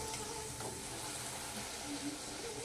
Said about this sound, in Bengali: এই যে এইভাবে সবকটা লুচি আমি ভেজে নেব।